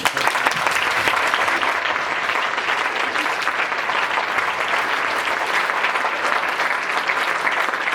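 Sustained audience applause from a crowd at a business talk in Slovakia, dense and steady clapping filling the whole stretch at an even, loud level with no voices over it.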